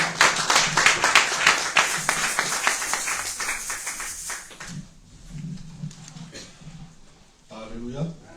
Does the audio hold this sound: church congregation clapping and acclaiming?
yes